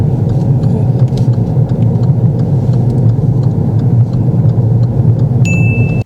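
A learner driver's car speeding up to join a dual carriageway, heard from inside as a steady, loud engine rumble and road roar, with faint ticks above it.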